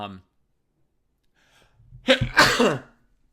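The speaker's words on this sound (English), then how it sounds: "I think I need to sneeze." A single loud sneeze comes after a brief silence and a short inhaled buildup, close to the microphone.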